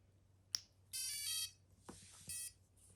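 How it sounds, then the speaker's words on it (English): A quadcopter speed controller gives a few short calibration beeps, high and tonal, with a sharp click first, repeating in a quick uneven pattern over a faint background hum. "if you hear the beep, it's calibrating"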